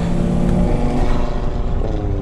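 A modified Audi RS3 with a 2.5-litre five-cylinder hybrid turbo engine roars loud and close, a dense, throaty drone holding steady with a slight dip in pitch toward the end.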